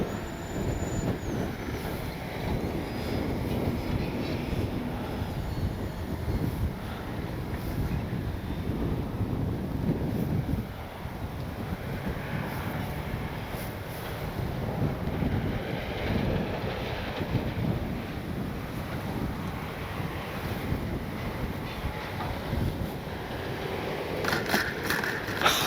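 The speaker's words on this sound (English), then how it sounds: "Maybe I can turn against this wind here." Strong gusty wind buffets the microphone outdoors while an E-flite Piper Cherokee RC plane is flown, a loud continuous roaring rumble that fills the whole stretch with no talk.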